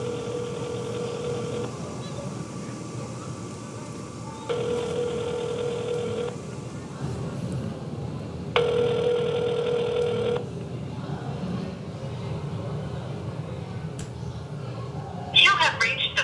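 A telephone call rings unanswered, with three separate bursts of ringback tone spaced a few seconds apart over a low background hum, followed by a brief click.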